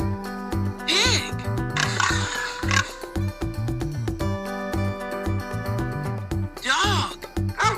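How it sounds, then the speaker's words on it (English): A cartoon pig grunts and squeals in short bursts over a bouncy children's tune, several snorting oinks spaced through the passage, loud and close. "Pig."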